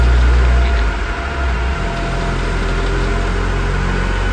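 Opel 1900 sedan engine running steadily in fourth gear, direct drive, on a dyno, a continuous low mechanical drone with vibration, close and unchanging in level.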